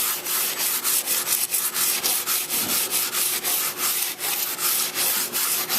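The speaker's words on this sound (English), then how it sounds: "What you want is the stainless steel pot scrubber. And you scrub and scrub." Steady, close scrubbing of a stainless steel pot scrubber stripping old varnish from a 1937 20-foot Lyman wooden boat, with repeated rasping strokes in a continuous rhythm and no talking.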